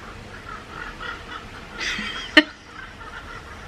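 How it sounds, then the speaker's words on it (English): Birds call faintly outdoors, with a brief burst of chirping near the end and a sharp single call standing out over quiet background hiss. "Birds."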